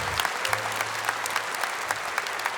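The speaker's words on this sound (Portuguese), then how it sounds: "Eu queria pedir que vocês aplaudissem todos os padres do mundo." A church congregation at a Catholic Mass breaks into steady, dense applause, many hands clapping together in a reverberant hall for a couple of seconds, with a low hum beneath.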